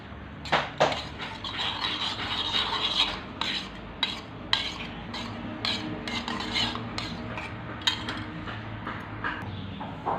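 Spoon stirring a mango pickle mixture with asafoetida in oil, made the village way without preservatives: a close, continuous wet scraping and churning against the pot, with repeated clinks of metal.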